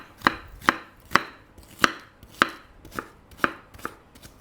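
A knife dicing a small onion on a cutting board: about ten crisp, evenly spaced chops, close and clear against a quiet background, with no voices.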